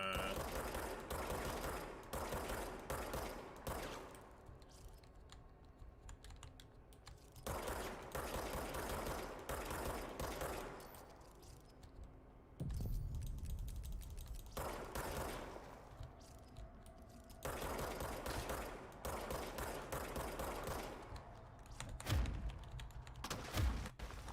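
Repeated bursts of service weapon gunfire in the video game Control, loud and dense in clusters separated by brief lulls, sustained across the whole stretch with no talk over it.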